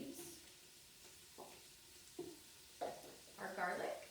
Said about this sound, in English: I've been just sauteing our white onion, so I'm gonna go ahead and add in the carrots, celery and their leaves